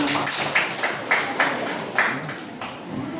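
Classroom applause during a teacher-training group presentation at SMKN 3 Banda Aceh: steady, dense clapping from a group, with a few louder accented claps rising above the wash, continuing for about three seconds.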